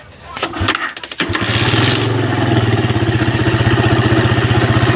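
A Suzuki Satria FU motorcycle with a fuel-starvation stalling problem is started up close: a short cranking burst catches and settles into a loud, steady, rapidly pulsing idle.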